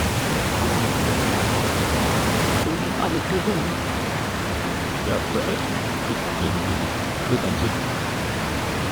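Fresh mountain water rushes through the Partnachklamm gorge in Germany as a loud, close, steady roar, slightly softer after the first few seconds, with a voice speaking faintly beneath it.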